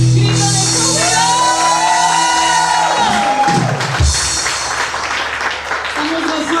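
A church congregation shouts for joy at a worship service, loud overlapping cries and whoops from a crowd, with a sustained shout over applause before it breaks into mixed voices.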